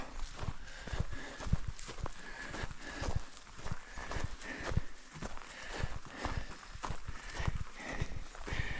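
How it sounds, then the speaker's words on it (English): Steady clip-clop of hooves as horses walk along, a regular rhythm of moderate loudness with faint outdoor background noise. "horse riders here"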